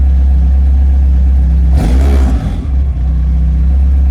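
A fully built Honda Civic engine with Skunk2 Pro 1 cams and 1650cc injectors idles loudly up close, blips into a short sharp rev, then drops back to a steady, slightly lumpy idle.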